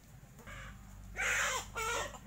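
Chickens give a few short, harmonic clucking calls close by, in two brief bursts with a louder second call, over a low steady background hum.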